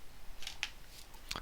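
Cutters snip component leads on a workbench, a few short sharp clicks spread across a moment, fairly close and quiet, with no talking.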